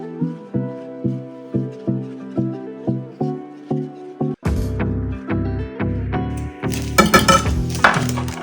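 Utensil clinking and scraping against a bowl while roscos dough is mixed with lemon zest, a steady run of sharp rhythmic knocks that grows louder and busier toward the end.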